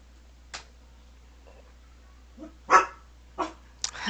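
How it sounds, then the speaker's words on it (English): A pet dog barks a few short, separate times at a moderate distance in a quiet room, with gaps of silence between the barks. "She barks at everything."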